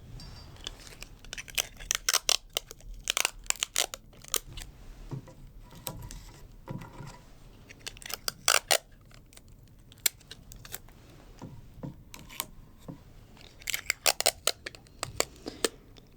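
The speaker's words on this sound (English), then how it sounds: "we're going to tape it so it stays still in the board. So we'll take our tape" Adhesive tape is pulled, torn and pressed onto a paper bingo card to fix it to a game board, giving clustered crackly, snappy bursts between quiet gaps, close by with no talk.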